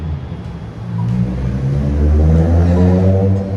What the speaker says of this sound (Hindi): ये देखिए पोस्ट की गाड़ी जा रही है।